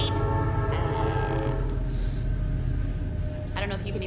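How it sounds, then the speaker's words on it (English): A train passes nearby as a loud, steady low rumble with a sustained horn-like tonal drone and brief higher squeals near the end, continuous for the whole stretch. "There goes the train."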